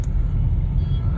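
Road traffic rumbles past the Kherki Daula toll plaza in Gurgaon, a loud, continuous low engine drone of passing cars with no break in the noise.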